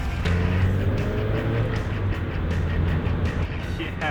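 Repaired car driving along a road, a steady close engine and road drone throughout, moderately loud with no clear pauses.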